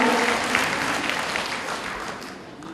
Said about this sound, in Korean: 크게 박수 보내주시기 바랍니다.